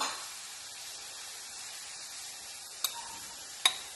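Onion frying in oil in a skillet gives off a steady, quiet hiss, with two sharp little clicks near the end.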